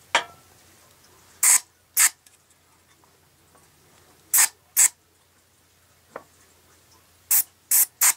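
Cleaner sprayed onto the mechanism of a Seeburg stereo console comes in short sharp hissing bursts, mostly in pairs, close and loud against near silence.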